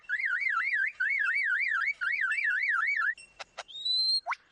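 Lyrebird in a forest mimicking a car alarm, clear warbling siren-like cycles repeated in three bursts, followed by sharp clicks and short rising whistles, all close and alone.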